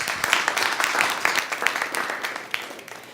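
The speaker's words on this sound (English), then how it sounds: "Big round of applause for her" An audience at a body language show gives a round of applause, brisk overlapping handclaps close and steady, tapering slightly toward the end.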